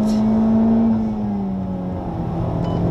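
Honda Civic Type R accelerates on the Le Mans circuit, a steady engine drone heard from inside the car with a gradually rising and shifting pitch, loud throughout and with no talk.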